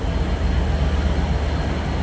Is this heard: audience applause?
no